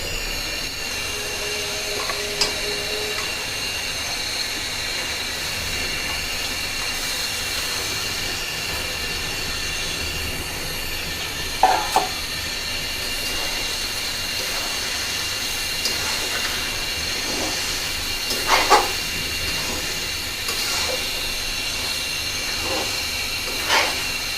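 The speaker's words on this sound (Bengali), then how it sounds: "আমার মশলা কষানো হয়ে গেছে, আমি এখন চিকেন দিয়ে দেব।" Chicken pieces hit fried spice masala in a pan for chicken biryani, setting off a loud, steady sizzling hiss that holds throughout, with a few faint clinks over it.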